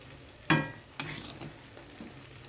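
Brinjal dropped into a curry cooking in a pan, two soft thuds and a clatter followed by a quiet, low sizzle with a little stirring.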